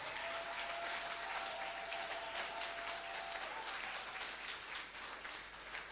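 A church congregation claps loudly at a Sunday service, dense steady applause filling the whole stretch, with a faint sustained tone running underneath for most of it.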